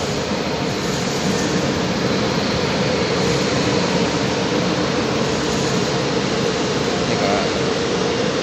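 A train at Taichung railway station in Taiwan makes a loud, continuous rumble and hiss that stays steady throughout, with no voices standing out.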